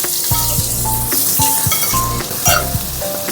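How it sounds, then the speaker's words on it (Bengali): Two large finely chopped onions hit hot oil in a pan with a loud, steady sizzle, broken by several sharp crackling bursts and the scrape of stirring. "পেঁয়াজটা এর মধ্যে দিয়ে দেবো।"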